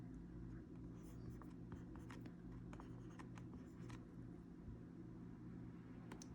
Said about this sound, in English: I'm just going to write it on another line because I can't fit it all in one.